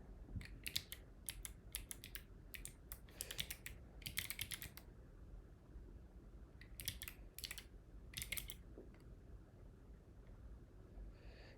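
Quiet, close clicking of keys on a MacBook keyboard, coming in quick irregular bursts separated by short pauses over a low room hum, with no voices.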